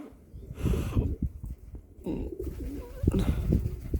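Racing pigeons coo in low, throaty bursts close by, repeating irregularly with brief pauses between calls.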